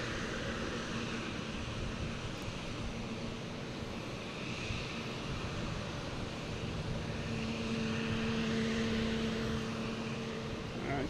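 An Aer Lingus airliner bound for Shannon rolls out for takeoff on runway 22 right at Boston Logan, a distant, steady engine drone with a faint sustained tone rising slightly later.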